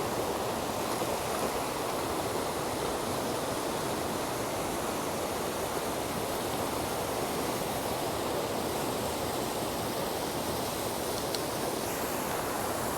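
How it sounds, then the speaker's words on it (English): The Carrabassett River in Maine rushes past as a steady, broad wash of flowing water, constant and fairly close with no voices. "This is the Carabasset River."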